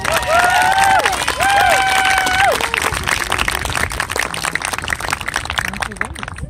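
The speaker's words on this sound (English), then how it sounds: "So big round of applause for Mrs. Degan." Crowd applause at a karate meet. Whistles and cheers ring out over the clapping at first, then a thick wash of claps and crowd noise carries on at a loud, steady level.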